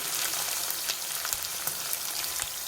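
Sliced onions and green chillies frying in hot oil for a beans and tomato curry. A soft, continuous crackling sizzle runs throughout, with a few brighter pops, fairly quiet and with no voices.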